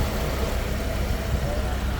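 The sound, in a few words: Daewoo Nexia car engine running idle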